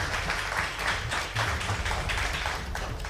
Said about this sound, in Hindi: एक बार तालियों के साथ इस शो की शुरुआत करते हैं